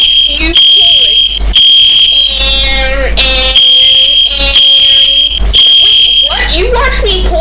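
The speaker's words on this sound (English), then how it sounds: "You pulled down the fire alarm 2 times when there's no fire" A fire alarm pulled with no fire rings very loud and close, with a continuous shrill electronic tone. People argue over it the whole time.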